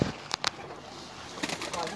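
Breeder pigeons in a loft cooing softly in the background, with a few sharp wing flaps or clatters and low, indistinct voices nearby.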